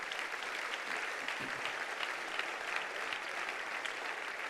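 A church congregation applauds during a worship service, a dense steady wash of clapping continuing throughout at an even, somewhat distant level.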